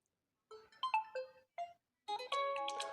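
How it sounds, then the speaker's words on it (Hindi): Alarm ringtone played on a mobile phone: a quiet, clean melodic tune of short bright notes in bursts, then a denser chord-like phrase toward the end, alone with no talking. "ये देखिए एक रिंगटोन इधर प्ले करूँगा।"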